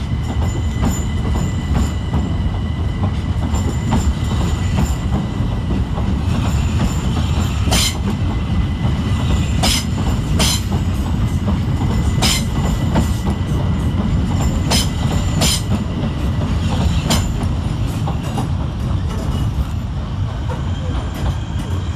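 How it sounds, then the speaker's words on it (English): A Southeastern Class 375 electric train departs London Charing Cross on a service to Ramsgate, a loud continuous rumble with repeated sharp wheel clicks and squeals over rail joints, close by and without talk. "Next out to depart is 375805 and 375610 with the 1129 Southeastern service to Ramsgate."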